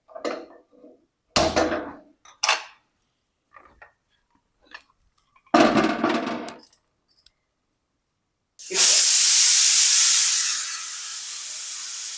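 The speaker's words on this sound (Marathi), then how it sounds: "आपण भोपळ्याला साधारण चार ते पाच शिट्या करून घेतल्यात" A pressure cooker steaming pumpkin releases its whistle, a loud rushing hiss of steam that bursts in after several seconds of scattered kitchen clatter and knocks, then holds steady to the end.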